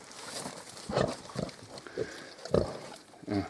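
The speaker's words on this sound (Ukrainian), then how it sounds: "Свинка. І полізла." Several short, low grunts from a Mangalica pig come in irregular bursts, close by, with snuffling and rustling between them.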